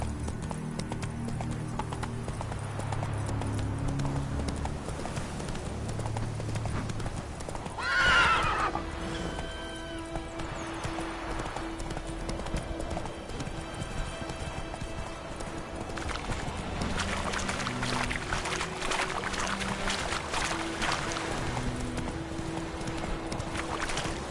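A horse gallops in The Witcher 3, rapid continuous hoofbeats on the ground with a sharp whinny partway through, close and steady throughout, set against ambient game sound.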